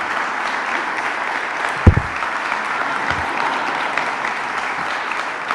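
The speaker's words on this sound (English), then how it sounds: "It's nice to actually see Tom Reynolds clapping when I'm standing about to give a speech." An audience at a memorial service in Albany applauds steadily, a sustained even wash of clapping with one sharp thump partway through and no voices over it.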